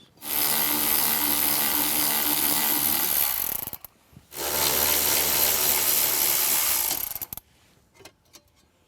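A ratchet spins out 8mm bolts from a metal amp-mounting bracket in a 2021-or-later Ford Bronco, giving two long, fast, buzzing clicking runs of about three seconds each, separated by a short pause, close up with no talking.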